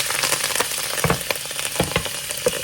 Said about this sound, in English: Kale, carrots, and onions. This is butter and smart balance.